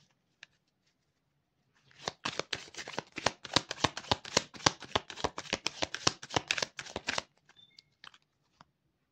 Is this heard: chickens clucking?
no